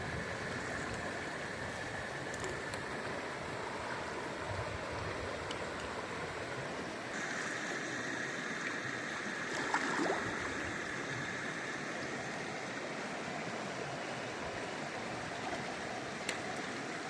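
The Tooma River flowing over rounded river stones in the Jagungal Wilderness, a steady, dense rushing and babbling that stays constant and fairly loud throughout, with a few faint brief clicks near the end.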